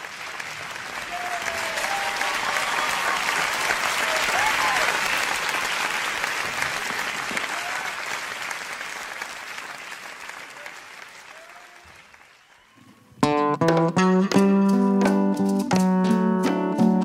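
An audience applauds percussion students in a loud, sustained wave of clapping that slowly fades, then gives way abruptly to music.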